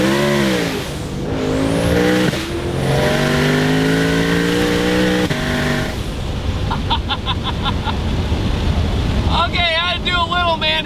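A 1200-horsepower twin-turbo Shelby GT500 pulls hard in first gear, engine note climbing loudly through several rising revs, then giving way to rushing wind noise with other sounds in the background.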